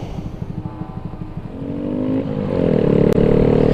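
A 2018 Honda Grom motorcycle putters along on the road, its small engine loping at first and then rising steadily in pitch as it accelerates. The sound is loud and close, with no talk.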